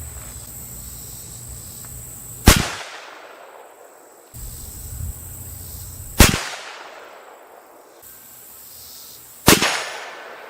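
Three loud, sharp 7mm-08 rifle shots with Hornady Super Performance 139 grain SST ammunition, fired from a cold barrel at a range, crack at roughly three-second intervals, each ringing out over steady insect chirping and faint background hum.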